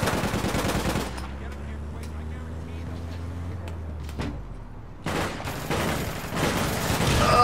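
Rapid automatic gunfire in the online shooter APB Reloaded, sprayed at a vehicle in loud dense bursts at the start and again near the end, with a quieter gap and engine rumble between and voices talking over it.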